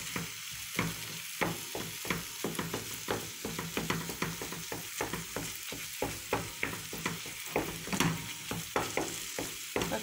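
Minced kefta meat frying in a pan while being stirred, constant sizzling broken by rapid, rhythmic scraping and tapping strokes of a utensil, close and continuous with no talking.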